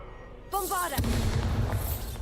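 A Bombarda blasting spell in Hogwarts Legacy detonates with a loud boom after a short spell-casting effect. Its heavy rumble then lingers and decays over the next second.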